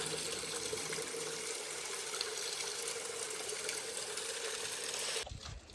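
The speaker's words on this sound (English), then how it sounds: "right there's actually a small cascade coming down" A small cascade of water pours into a natural hot spring pool at Deep Creek, making a steady, close rushing splash that runs evenly before cutting off abruptly at the end.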